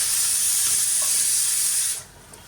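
New potatoes frying with onion and spices in a pan, a loud steady hissing sizzle that holds for two seconds and then drops away sharply.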